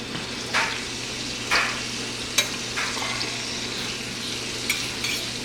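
Beef sticks fry in a pan with a soft continuous sizzle, broken by a few sharp clinks and scrapes of a utensil against the pan, nearby and without talk.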